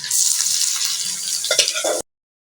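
Leafy greens (saag) dropped onto browned onions in a hot pan hiss in a bright, close sizzle, with a brief clatter near the end before the sound cuts off abruptly.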